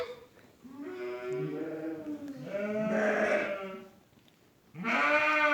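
A young lamb bleats loudly and close by in several drawn-out, wavering cries, with short pauses between them and a final bleat starting near the end.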